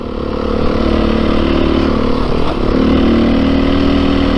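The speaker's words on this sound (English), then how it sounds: "So one thing I like about this 430 a lot is it has no problem in the low RPMs." A 2022 Beta 430 RR-S dirt bike engine chugs along at low RPM while being ridden, a loud, close, continuous motor drone with a slight dip and recovery in pitch partway through.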